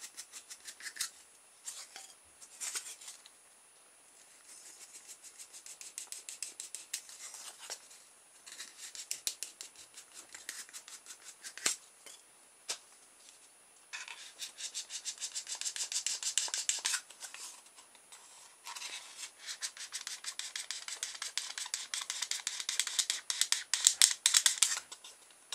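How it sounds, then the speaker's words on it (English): A pencil is rubbed inside small holes to widen them gently. The result is a quiet, close, irregular scratchy rasping that comes in bursts and grows busier toward the end. "so I'm just opening them up gently using a pencil"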